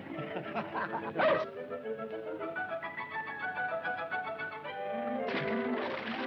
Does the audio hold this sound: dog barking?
yes